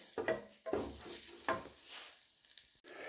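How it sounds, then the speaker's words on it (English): Garlic sautéing in a pan for gobernador tacos, giving a steady sizzle broken by a few louder stirring scrapes and clinks, close by with no talking. "Saute for 3 minutes or so, then we'll add the rest."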